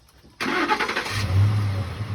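A car engine turns over with the key: a sharp starter crank that catches and settles into a loud, steady idle close by.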